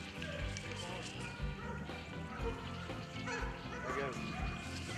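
Hunting dogs barking and yipping at a group of wild hogs with a boar among them, loud repeated barks and whimpers over a continuous scuffle, with people talking throughout.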